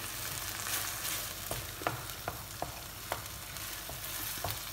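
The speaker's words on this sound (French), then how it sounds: "Et on mélange bien." Paprika, mild chili and other spices stirred into a sizzling pan for a Moroccan kefta tagine, with steady frying hiss and several soft utensil scrapes and knocks, close by and without talk.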